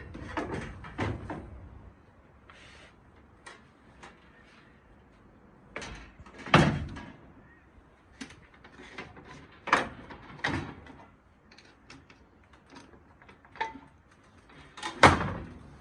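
A patio pet door insert is slid out of a sliding door frame, giving scattered knocks, scrapes and a few sharper clacks of panel against frame at an uneven pace, fairly close.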